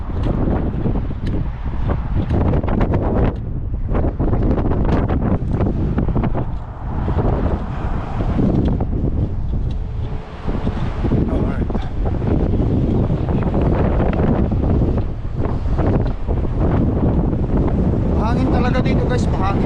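Strong wind buffets the microphone in a constant loud roar, with water and boat noise mixed beneath.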